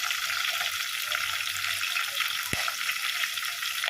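Tomatoes going into onions sautéing in a pan for an anchovy fish curry, with a steady, close, broadband frying hiss throughout and a single sharp tap partway through.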